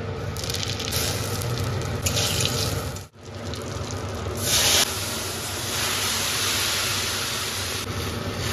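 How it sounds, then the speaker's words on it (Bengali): Cumin and radhuni seeds tempering in hot oil, producing a loud, steady hiss and crackle that runs throughout with a brief dip, then swells again, close up and without speech. "এখন ফোড়ন দেবো। ফোড়ন দেবো জিরে আর রাঁধুনি।"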